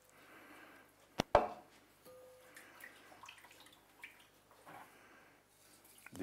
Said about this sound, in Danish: Så tilsætter vi vand.